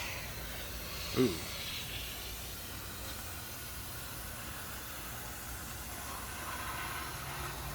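AMSOIL MP silicone aerosol sprayed onto a classic car, a faint steady hiss running through most of the stretch, with a brief loud exclamation from a person early on.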